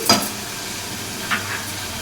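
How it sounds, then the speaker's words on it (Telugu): Green chillies sizzle softly in a hot pan while being stirred for a homemade chamadumpala pulusu curry. Two brief scraping stirs stand out over the low, steady frying hiss, and nobody speaks. "ఇందులో పచ్చిమిర్చి ఇప్పుడు వేసి బాగా వేసుకుని"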